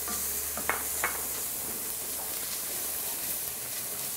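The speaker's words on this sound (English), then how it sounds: "I'm putting in the celery." Celery sweating with onion in a pan, a faint, steady hiss of gentle cooking with two soft utensil taps early on, quiet and without talk.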